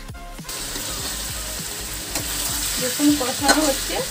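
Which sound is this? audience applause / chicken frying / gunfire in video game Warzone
chicken frying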